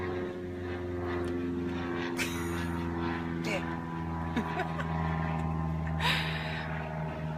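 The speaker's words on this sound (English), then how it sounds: "after this airplane flies away" A propeller airplane flying overhead gives a steady droning hum with a constant tonal whine through the whole stretch, with a few brief noises on top.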